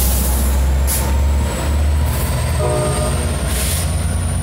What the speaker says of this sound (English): This is an out of service San Joaquin train 711.